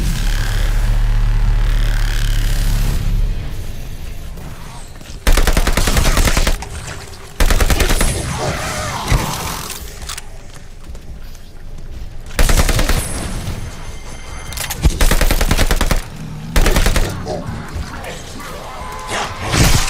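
Call of Duty Vanguard Zombies gameplay with loud, close bursts of automatic gunfire broken by short pauses, set against a continuous game soundscape of rumbles and crashes.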